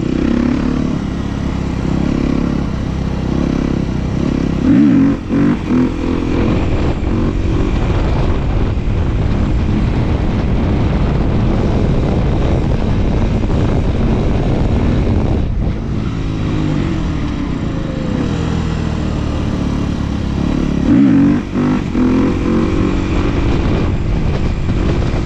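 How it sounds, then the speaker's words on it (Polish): Motorcycle engine easing off and slowing while the bike is held in a wheelie, a loud continuous drone with wind buffeting the microphone and no voices. "Motocykl zwalnia, już nie przyspiesza."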